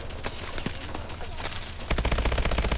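Automatic gunfire in Call of Duty: Advanced Warfare, with loud sustained bursts of rapid shots and a heavier, faster stream of fire near the end, close and dominant over the game's background noise.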